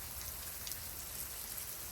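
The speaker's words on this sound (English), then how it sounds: "it's pouring rain out right now" Steady rain falls outdoors, a constant soft hiss with scattered drops pattering nearby, lighter than a full downpour and free of any voices.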